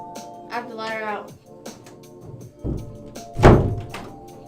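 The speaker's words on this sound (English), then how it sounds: "That door shuts so weird" A door shuts with a strong low thunk near the end, preceded by a softer thud, amid voiced chatter and background talk indoors.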